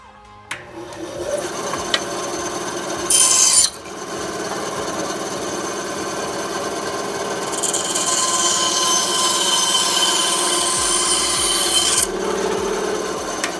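Continuous rasping and rubbing of sanding on an old wooden hatchet handle, steady and close, with a brief louder burst partway through and a harsher stretch later.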